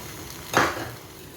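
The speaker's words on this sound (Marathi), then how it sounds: "थोडंसं ड्राय होईपर्यंत आपल्याला हे करून घ्यायचं आहे, गरम फ्राय करून घ्यायचं आहे" Vegetable kofta curry masala frying in a pan, a short burst of sizzle and stirring that rises suddenly and fades over a second, fairly close, with no voices.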